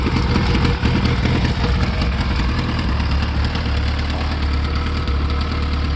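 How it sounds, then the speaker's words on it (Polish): A 1993 Yamaha GTS 1000 ABS motorcycle engine idling steadily up close, a low rumbling thrum with a knocking pulse that stays even and unbroken. "sam silnik, mówię, chodzi bardzo fajnie"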